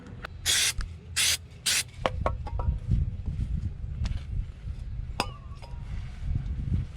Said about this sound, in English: then the brake clean, so we'll give it a little spray here into our first mount